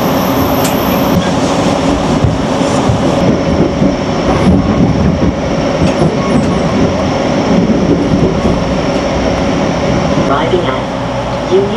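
A GO Transit train arriving at Union Station rumbles steadily with a low mechanical hum and faint rail clatter, heard from inside the car, with a loud constant drone.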